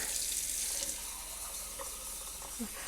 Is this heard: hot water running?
yes